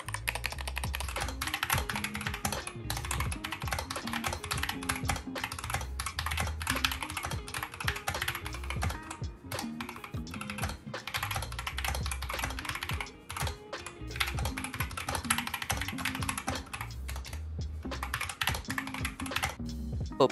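Steady, rapid typing on a tape-modded mechanical keyboard with deep, poppy keystrokes, continuous and close, with brief pauses between bursts.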